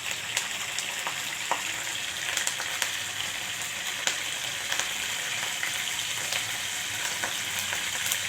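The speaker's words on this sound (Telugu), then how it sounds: "తాలింపు బాగా వేపుకోవాలి." Mustard and other tempering seeds with curry leaves fry in hot oil for an eggplant stir-fry, a steady close crackling sizzle with scattered sharp pops throughout and no speech.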